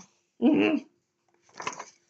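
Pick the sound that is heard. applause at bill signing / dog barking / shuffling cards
dog barking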